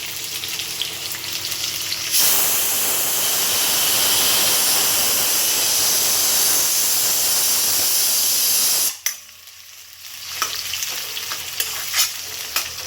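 Loud, steady sizzling of onions frying in hot oil starts abruptly, fills most of the clip, then drops away to quieter kitchen clatter.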